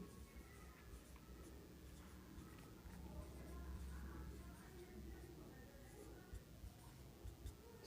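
Chalk or marker writing on a board during a physics lesson on motion, heard as soft scratchy strokes and ticks under a steady low room hum, with a teacher speaking nearby.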